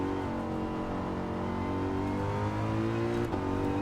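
A race car engine in the Gran Turismo 7 driving game holds a steady, loud drone with shifting harmonic pitch while braking and downshifting into a corner, continuous and up close without pauses.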